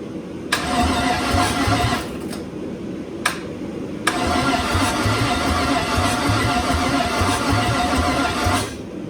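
A single-turbo LS engine in a G-body car cranks over on its first start after a long layoff. Rhythmic starter churning comes in short bursts, then one long cranking run that chugs and stops abruptly.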